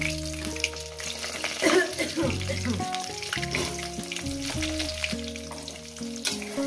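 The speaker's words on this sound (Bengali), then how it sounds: "আলুগুলো আগে ভেজে তুলে নেব জিরে আর তেজপাতার সঙ্গে।" Potatoes frying in a pan with cumin seeds and bay leaves, a steady close sizzle with stirring and utensil scrapes, plus tonal music playing throughout.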